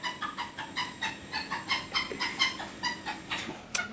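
A chicken clucks in a steady series of short, fairly close calls while a person works with wire on a flower-petal brooch, the clucks pulsing rhythmically and ending in a sharper squawk.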